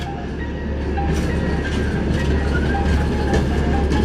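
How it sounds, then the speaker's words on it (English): A small speeder rail car rolls past on the WK&S Railroad tracks at Kempton, Pennsylvania, with a steady close rumble and rhythmic clickety-clack of wheels over rail joints, no talk. "what we got coming down here is a speeder train, which we filmed earlier."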